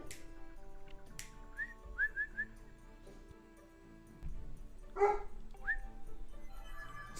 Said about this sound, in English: this dog will hear things from down the street